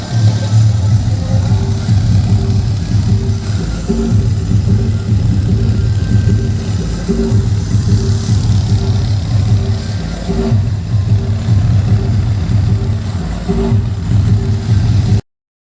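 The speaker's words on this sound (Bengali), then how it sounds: "আমাদের জেনারেটর ডিজি স্টার্ট হয়ে গেছে" A diesel generator drones steadily and loudly, a low rumbling hum that stays constant throughout with no pauses.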